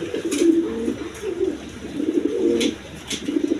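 Pigeons kept for sale, including Danish pigeons, coo in low, throaty phrases, several rolling calls repeating close by with brief pauses, over a quiet background and no speech.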